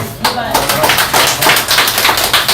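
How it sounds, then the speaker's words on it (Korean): A crowd at a Korean political party education rally claps loudly and close by, a dense, rapid patter of many hands with a few sharper individual claps, continuous for a couple of seconds. "우리 김문현 박사한테 박수 한번 해주세요."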